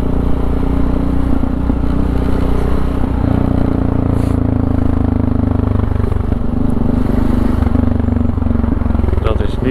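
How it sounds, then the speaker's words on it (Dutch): Three motorcycles riding one after another in a row on a Dutch road, their engines droning loudly and steadily throughout. "Daar rijden zijn er gewoon 3 motors op rij."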